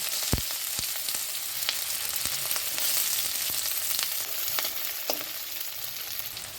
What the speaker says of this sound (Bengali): প্রথমে আমি একটু সর্ষে তেল দিয়ে নিলাম, তারপরে আমি শুকনো লঙ্কা দিয়ে দিলাম, তারপরে পেঁয়াজ কুচি দিয়ে দিলাম